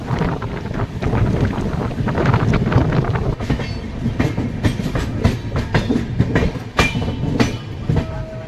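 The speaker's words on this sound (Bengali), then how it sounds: "সকাল প্রায় 8টার সময় ট্রেন বিশাখাপট্টনম স্টেশন এন্টার করছে।" Express train rolling into Visakhapatnam station in the morning, a steady loud rumble of wheels with repeated clattering rail-joint clicks, close by with no voices.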